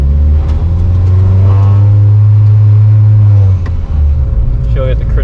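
A 700whp all-wheel-drive Honda Civic Si drones steadily from inside the cabin, its engine holding a low loud note and then easing off as the throttle is blipped, with people talking over it.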